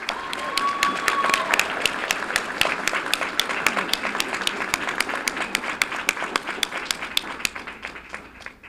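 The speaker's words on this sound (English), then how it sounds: "Let's give these national competitors a round of applause." Applause at a school board meeting for national student competitors, sustained clapping from a room of people with sharp individual claps standing out, steady throughout with faint voices mixed in.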